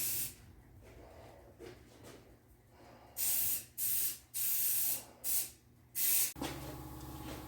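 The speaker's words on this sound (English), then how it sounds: "Little rattle can action." Rattle-can spray paint laying racing stripes on a Spitfire, heard as five loud, close hissing bursts of about half a second each, with a quiet gap before them and a low hum after.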